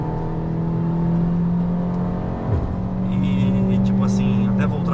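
Fiat Cronos with an automatic CVT accelerating at full throttle, a loud steady engine drone held at high revs from inside the car, the pitch shifting slightly partway through.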